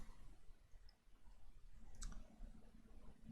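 A single soft mouse click lands near the two-second mark as a save button is pressed in Photoshop, isolated and close against a low, steady room hum.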